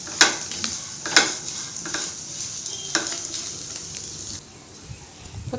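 Grated coconut sautés in a pan for a chutney, with a light continuous sizzle and sharp clinks and scrapes as a spatula stirs it, close and fairly loud.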